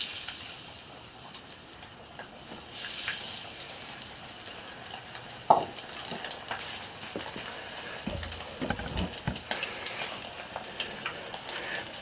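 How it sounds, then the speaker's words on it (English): Pike fillets frying in hot oil, a soft continuous sizzle and crackle with occasional sharper pops and splutters, fairly quiet and steady throughout. "time to put that pike in the oil"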